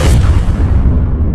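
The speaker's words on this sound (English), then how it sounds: "The explosion causes the entire ceiling above the podium to collapse." A time-fused bomb detonates in a beer hall, collapsing the ceiling above a podium: a loud, deep, rumbling blast that fills the clip and slowly fades as the high end dies away.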